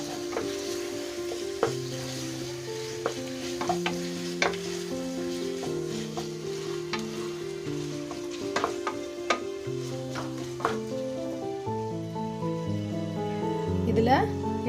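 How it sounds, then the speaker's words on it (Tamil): Coriander, mint, curry leaves and a single chili sauté in a pan with a soft sizzle and sharp stirring clicks, largely beneath a continuous speaking voice. "இப்போ நல்லா இதை வதக்கிக்குவோம்"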